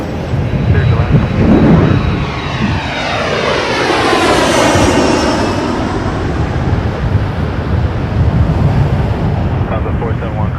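Boeing 787 Dreamliner landing at Toronto Pearson Airport, a loud jet roar that swells and sweeps past over several seconds, with heavy wind buffeting the microphone throughout.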